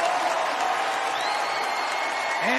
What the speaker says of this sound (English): Crowd is cheering for the Anteater.